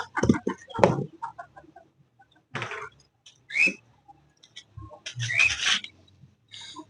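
Chickens and a rooster make short, scattered clucks and calls near the recorder, separated by quiet gaps, with a person speaking briefly between them.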